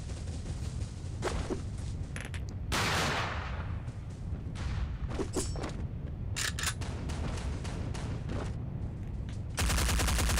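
Gunfire rattles through a match of the mobile shooter Forward Assault, with several bursts and single shots at mid distance, some loud cracks in quick succession, and a harsh burst of noise at the very end.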